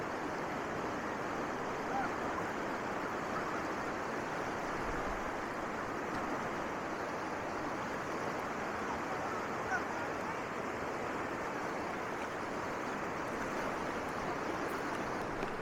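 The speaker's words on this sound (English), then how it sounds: "And there's your rafters going down the river. Some rapids up there." Steady broadband rush of river rapids, with rafters heading downstream, a continuous even roar of churning water heard from a distance with no clear individual splashes.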